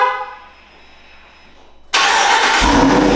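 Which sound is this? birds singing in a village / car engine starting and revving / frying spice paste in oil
car engine starting and revving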